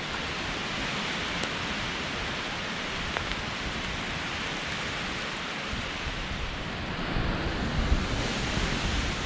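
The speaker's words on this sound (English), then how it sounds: "Water coming off of the pine trees. Okay, it's getting windier." Steady rain and gusting wind move through pine trees in a tropical storm on a mountain hiking trail, a dense broadband hiss that swells slightly louder toward the end, with water dripping off the branches.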